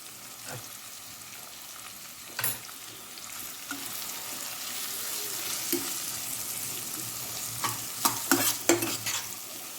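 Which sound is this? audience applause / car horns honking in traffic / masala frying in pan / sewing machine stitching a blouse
masala frying in pan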